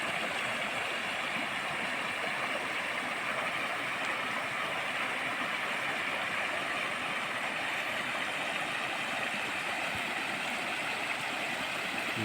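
Water flowing in a rural creek beside its bank makes a constant, even rushing wash, moderately faint and unbroken from start to finish, with no voices.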